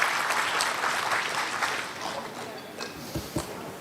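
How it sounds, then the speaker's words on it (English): Audience applause at a national conclave on SHG-led natural farming, steady clapping that gradually thins out, with a few louder individual claps near the end. "A huge round of applause for this very, very nice setup here."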